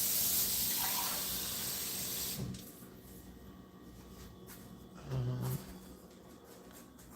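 Water runs steadily from an indoor tap for a couple of seconds at the start, then the flow cuts off, leaving quiet room sounds with a brief low thump near the end.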